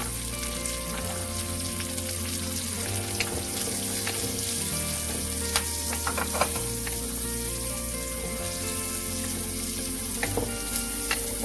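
Carrot stir-fried in a pan for fried bee hoon, a loud continuous sizzle with scattered scraping and clinking of the utensil against the pan throughout.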